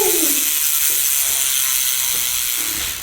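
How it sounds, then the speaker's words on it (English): A Factor freewheel hub on a Specialized Demo downhill mountain bike clicks in a fast, continuous buzz of ratchet pawls as the wheel spins, loud and close with no talking. "Factor hubs in there. Give them a listen. Listen to that."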